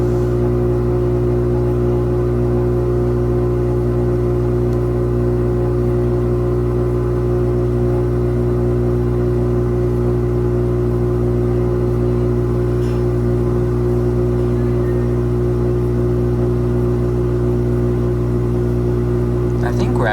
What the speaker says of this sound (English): This one actually does spin counterclockwise for the spin stage.